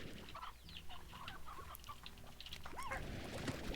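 Hens cluck and a rooster-like call rises in a farm video game, a busy layered flock sound at moderate level with no talking.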